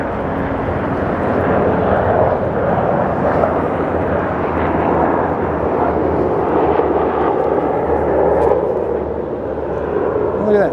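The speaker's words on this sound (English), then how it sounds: "Look at that, it just happens to be a military helicopter." A military helicopter passes overhead in a city street area, a loud continuous rotor and engine rumble that holds steady throughout, with people talking under it.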